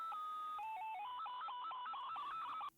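Eerie, strained sound effect from a Ratman den in the video game Portal 2: steady high electronic tones that warble and step between pitches for nearly three seconds, then cut off abruptly, with no voices.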